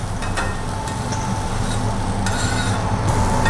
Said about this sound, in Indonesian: Kita saute bareng. Kita kasih minyak.